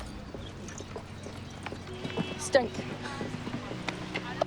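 Horse hooves clip-clop at a show jumping event in Waitemata, steady, fairly close footfalls under nearby talk.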